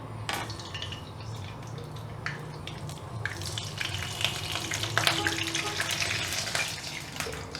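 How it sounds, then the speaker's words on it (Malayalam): Mustard seeds sizzle and crackle in hot oil in a pan, a steady close frying hiss scattered with sharp pops that grow denser toward the end, with no voices. "എണ്ണ ചൂടായെന്ന് തോന്നുന്നു. ഇതിലേക്ക് നമുക്ക് 1/2 ടീസ്പൂൺ കടുകിടാം."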